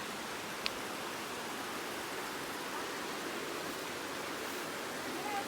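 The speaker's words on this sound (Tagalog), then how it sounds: "This is the real falls." A waterfall at Nam Shan campsite in Hong Kong gives a steady, even rush of falling water throughout, close and continuous with no clear talk.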